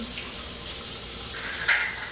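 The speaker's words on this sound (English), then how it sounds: "I'm just waiting for the water to get hot so I can add my half a cup." Tap water runs steadily into a kitchen sink as it warms, a constant close hiss with a faint clink near the end.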